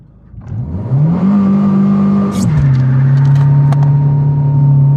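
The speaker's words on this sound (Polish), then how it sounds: "Silnik bardziej buczy." A car engine running on E10 fuel spiked with vodka revs up and holds a steady droning pitch as it accelerates, loud and close, with a brief shift midway, sounding underpowered.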